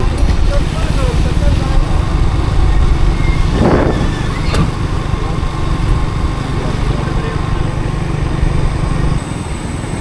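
A steady engine drone of a motorbike being ridden near Pookode Lake in Wayanad, loud and continuous throughout with wind rumble and a brief passing swell midway.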